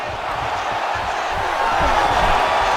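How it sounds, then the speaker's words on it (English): A virtual arena crowd in a UFC 5 fight roars in a broad, sustained swell that grows slightly louder toward the end, a dense wash of cheering with a commentator's voice over it. "huge pop from the crowd as the fighters get back up to their feet"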